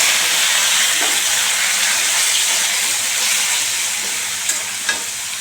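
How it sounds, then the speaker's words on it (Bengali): Potatoes frying in oil tempered with black and white cumin give off a loud, steady hissing sizzle, with a couple of faint stirring clicks near the end and no speech. "কালো জিরে আর সাদা জিরে ফোড়ন দিয়ে দিলাম এবার আলুটাকে ভেজে নেবো"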